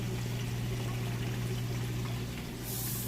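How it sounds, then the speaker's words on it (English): A Kenmore HE washer drains water after its wash cycle, a steady rushing pour over a constant low pump hum, close and unbroken for the whole stretch. "it's moving out of the wash cycle. You can hear it draining that water."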